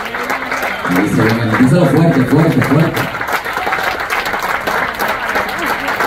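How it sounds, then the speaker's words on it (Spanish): Church congregation applauding during a women's campaign service, steady clapping throughout with a voice speaking loudly over it early on and crowd noise around. "Un aplauso a las damas."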